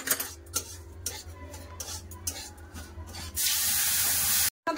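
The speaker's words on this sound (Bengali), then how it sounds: "এবার জল দিয়ে দেবো।" Semolina frying in a pan for halwa is stirred with light scrapes and clinks, then water poured into the hot pan bursts into a loud, sustained hiss that cuts off abruptly.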